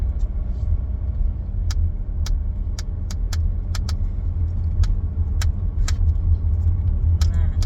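A car driving home hums with a steady low engine and road rumble from inside the cabin, punctuated by scattered sharp ticking clicks throughout.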